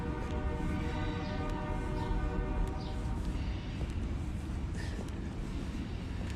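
A train rumbles past nearby with a steady low roar and squealing, tonal metal screeches from the wheels, continuous and loud throughout with no speech.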